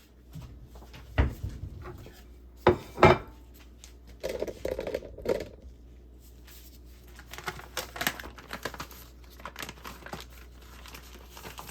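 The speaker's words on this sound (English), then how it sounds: "Get this bacon out of the package. And start slicing." Thick cut bacon, just taken from its package, is sliced with a knife, giving a series of crinkly, crackling cuts and rustles in irregular bursts, close up, with quieter handling noises in between.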